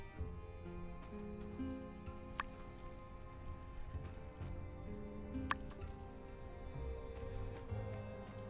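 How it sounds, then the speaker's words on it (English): Trees being watered in the video game My Time at Sandrock, soft dripping and splashing water effects over a looping music bed with two brief sharp chimes. "Water my trees."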